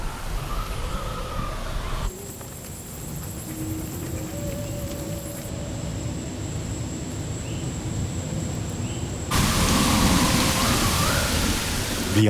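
Heavy rain pours during a tropical storm in Puerto Rico, a steady dense roar of water that holds throughout and swells louder near the end, with no voices.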